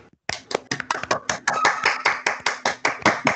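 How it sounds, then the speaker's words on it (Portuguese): A small group claps for Lorenzo in quick, uneven bursts that quickly settle into a steady run of close, sharp handclaps until the end, with no talking. "Uma salva de palmas aí para o Lorenzo"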